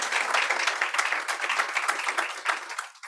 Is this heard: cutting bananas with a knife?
no